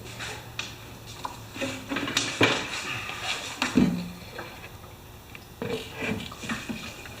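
Fuel sloshing inside the three-quarter-full tank of a Briggs 5HP high-volume pump as it is rocked back and forth, irregular wet swishes and splashes mixed with occasional knocks of the tank, fairly close.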